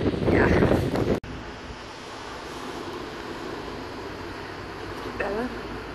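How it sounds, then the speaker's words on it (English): Blustery wind on the seaside at Weymouth, a steady rumbling gust noise against the microphone, louder at the start under a speaking voice, then a lower continuous roar with a faint voice near the end. "it's really, really blowy"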